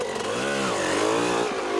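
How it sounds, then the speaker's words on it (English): A Yamaha off-road race motorcycle at the Kalahari 400 desert race screams at full throttle, a loud, close, buzzing engine whine whose pitch climbs, dips briefly and climbs again. "Ruan Roberts back on his Yamaha, riding out at full throttle"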